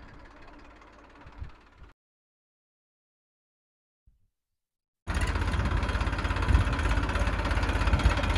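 A tractor engine on a farm: faint noise, then near-silence, then a loud, close, steady idle with a deep throbbing rumble that runs to the end.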